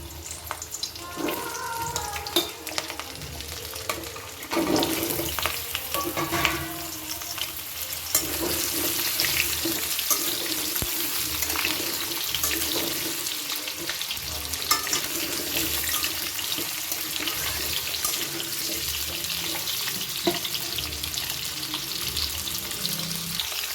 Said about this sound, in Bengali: গরম হয়ে গেছে তেলটা, আলুগুলো ছেড়ে দিচ্ছি